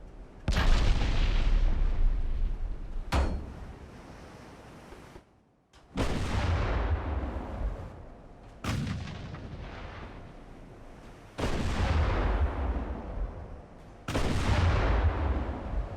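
8-inch naval guns aboard HMS Iphigenia in Ultimate Admiral: Dreadnoughts fire six heavy booms, roughly three seconds apart. Each blast is loud and close and rolls off into a long rumbling decay.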